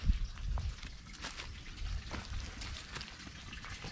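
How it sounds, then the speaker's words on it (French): Water trickling and splashing from an overflow drain in a forest, a steady continuous burble with soft hissing spray, fairly close and alone without talk. "c'est une évacuation de trop plein d'eau qui vient de quelque part, certainement du haut de la forêt"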